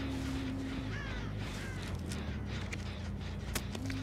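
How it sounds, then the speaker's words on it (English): Crows caw in the Dead by Daylight game: a few short, harsh calls rise over a steady, dense ambient background. No one speaks. "that's just the crows. That makes so much noise."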